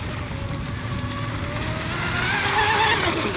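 American-made J&R Marine H26 radio-controlled hydroplane running during prop testing: a continuous high, buzzing motor whine, fairly close, rising in pitch toward the end.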